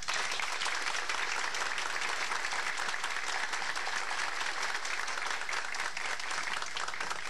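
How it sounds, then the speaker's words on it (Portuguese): Sustained applause from a large crowd at an awards ceremony of a 1985 computing congress, dense and even clapping that holds at a steady level throughout. "Então eu gostaria que a gente também colocasse umas palmas para esse grupo que organizou o Congresso"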